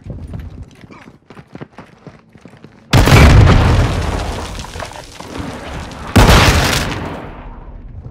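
Cluster bomb explosions in a military shooter video game: two huge, close blasts erupt after a stretch of scattered clicks and quiet activity, each roaring and then slowly rumbling away.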